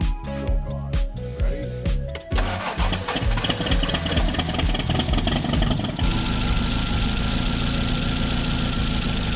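A Triumph TR4 engine, just after a cylinder head rebuild, cranks in a few short bursts, then catches and roars into a loud, steady idle with a rough, throbbing rumble.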